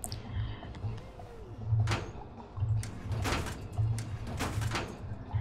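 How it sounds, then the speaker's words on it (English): A door shuts in the game We Happy Few, several dull knocks and scrapes spread through the passage over a low background hum, with quiet talk alongside. "Can we close that door?"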